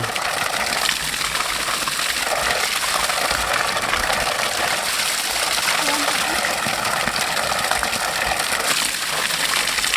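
Waterfall in the Philippines, a steady broadband roar of rushing water filling the whole clip, with people talking over it.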